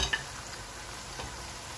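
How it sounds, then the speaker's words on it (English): Chopped onions frying in hot palm oil while preparing native jollof, giving a steady broadband sizzle with a few sharp stir clicks near the start. "I'll add some chopped onions and fry for about 2 minutes"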